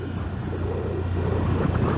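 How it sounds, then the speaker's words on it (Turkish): A 2023 Honda Activa 125 scooter engine idles smoothly and steadily nearby, a low even putter with a faint breezy hiss over it. "yumuşak bir sesle çalışan bir motosiklet"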